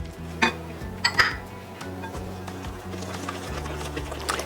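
Blueberry peach oatmeal muffin batter with maple syrup and vanilla being mixed in a bowl, with a few sharp clinks of the utensil against the bowl early on over a steady, soft scraping churn.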